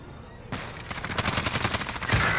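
Rapid automatic gunfire in Call of Duty: Modern Warfare multiplayer, a loud stuttering burst of shots lasting about two seconds.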